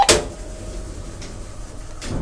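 Old 1960s lift doors in an abandoned building slam shut with one sharp, loud metallic bang at the start, followed by a low hum and a softer knock near the end.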